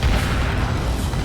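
Booming shotgun blasts in the Serious Sam video game, loud and dense in one short burst, with no talk over them.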